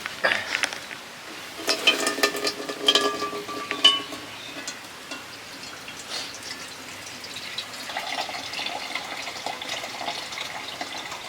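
Water poured into a hot momo steamer in a home kitchen while cooking hilsa fish paturi, a fairly quiet trickling and splashing with clattering pot sounds, then a softer steady rush of water near the end.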